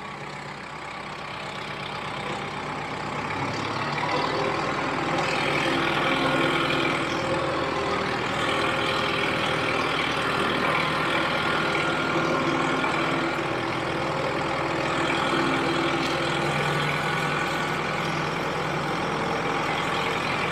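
A tractor engine runs steadily on a hillside during tree felling, a continuous heavy low rumble that swells slightly after the first few seconds and holds at a constant, fairly close level with no talk.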